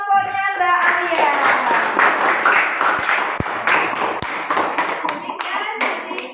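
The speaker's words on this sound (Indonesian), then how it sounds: "Beri tepuk tangan untuk kelompoknya Mbak Alia." Classroom group of students applauding a presenting group, dense clapping throughout with a few sharper taps, while a voice talks over the start.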